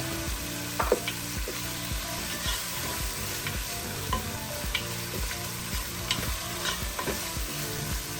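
Mint and curry leaves fry in a pan with a loud continuous sizzle while a spoon stirs in regular scraping strokes, close up, over soft background music.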